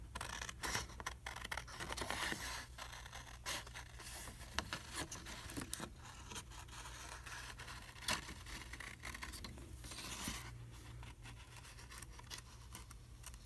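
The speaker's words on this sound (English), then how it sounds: "We'll cut this one right along the edge also." Scissors snipping along the edge of a handmade paper label for a journal, a string of quiet, close crisp cuts and scrapes over a low background hum.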